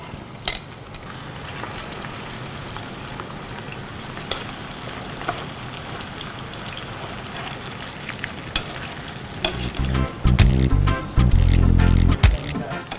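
Pork frying in oil in a thick stainless steel pan over a gas burner, a steady crackling sizzle throughout, growing louder and more intense with bursts of stirring near the end; no one speaks.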